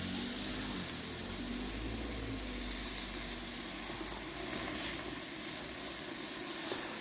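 Burgers sizzle steadily on a hot hibachi grill, a continuous close, even crackling hiss with no talk.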